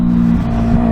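A Yamaha R3 motorcycle fitted with an M4 Street Slayer exhaust rumbles loud and close in a short burst, holding a steady low drone that dips and swells slightly, with no talking.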